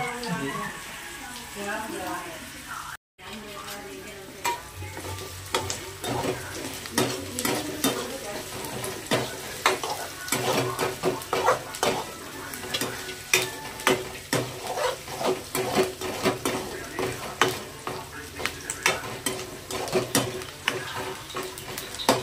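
Spices sizzle and fry in a pan for poha while a utensil stirs and scrapes against the metal in repeated strokes, close and fairly loud, with a brief cut near the start.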